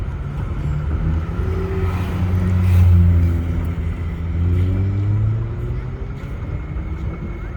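A taxi driving through the streets of Antananarivo, Madagascar, with a steady engine drone and rumble rising and falling as it accelerates, loud and close from inside the cab, with some talk over it.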